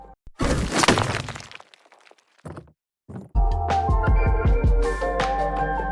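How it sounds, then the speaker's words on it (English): An earth magic spell sound effect: a loud crackling burst of breaking, rocky debris, a pause with small clatters, then a heavy rumbling impact with ringing, shimmering tones that sustain. "So altogether, the spell sounds like this."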